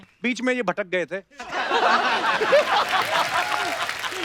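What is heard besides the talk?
studio audience applause for Krishna on the Kapil Sharma Show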